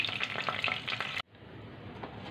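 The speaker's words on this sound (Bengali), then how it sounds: "ফোড়নে দিয়ে দেবো 2টো গোটা লঙ্কা, আর দিয়ে দেবো একটু জিরে" Whole dried chillies and cumin seeds crackle and sizzle loudly in hot oil for a tempering, a busy close spatter that suddenly drops to a quieter steady fizz halfway through.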